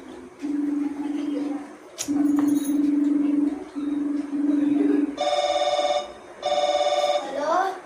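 A telephone rings back while a call is placed, steady pulsed ringback tones repeating in pairs, followed by a higher-pitched electronic ringtone burst, close and clear with light background noise.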